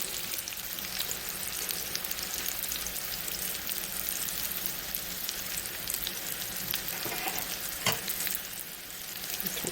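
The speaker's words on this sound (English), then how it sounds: "Make sure they're good and seared, because that's how the flavor comes out" Beef patties for Salisbury steak sear in a hot pan with a steady, dense sizzle that holds level throughout, a couple of brief louder crackles near the end, and no talking.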